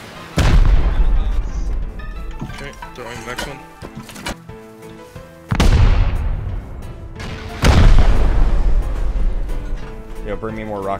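Rockets slam into a base during a raid in Rust, three loud booming explosions with rumbling decay, interspersed with voices talking between blasts.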